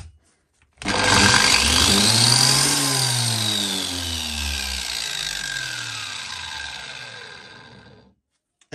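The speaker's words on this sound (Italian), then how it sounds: "mettendo su on la smerigliatrice partirà regolarmente" A TILSWALL 125 mm angle grinder spins up sharply and whines at high speed for several seconds, its pitch slowly sagging as it runs on, loud and close.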